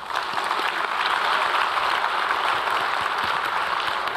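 Applause from a large audience at the opening ceremony of the 2025 Korea Local Era Expo, honouring a national museum director: steady, dense clapping that holds evenly throughout without a break.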